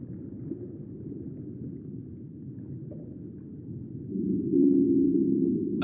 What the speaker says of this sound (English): A brillo whale, and it is getting nearer.